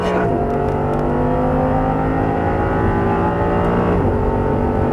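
An Audi R8 engine pulls hard on a racetrack, a loud, continuous close-up roar with a dense harmonic drone that holds steady and shifts slightly in pitch near the end.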